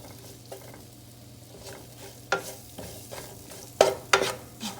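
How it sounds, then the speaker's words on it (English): Garlic, unroasted curry powder, chili pieces and cinnamon stirred in a pan, with a soft sizzle underneath and a few sharp scraping knocks of the utensil against the pan, close and fairly quiet. "And the garlic, the unroasted curry powder, chili pieces, and the cinnamon. And then I'm gonna mix it."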